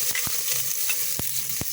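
Garlic frying in a pot as the base for pork sinigang, a constant close hissing sizzle punctuated by several sharp pops and ticks.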